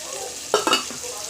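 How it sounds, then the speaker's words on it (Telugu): Onions and tomato tempering in hot oil in a pan, a short loud sizzle with stirring bursts rising over a low background frying hiss. "2 ఉల్లిపాయలు పోపు వేసుకొని అన్నాన్ని ఆ పోపులో వేసేసుకుంటాను"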